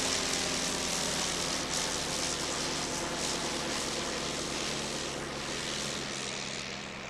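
A Sopwith Pup, a World War I aircraft, runs its rotary engine at an air show, a loud, steady propeller drone and engine roar that holds unbroken throughout with no voices.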